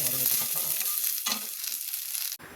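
Curry leaves and onions hiss and crackle as they fry in an unglazed clay pot, a dense close sizzle with a couple of stir scrapes, cutting out abruptly near the end.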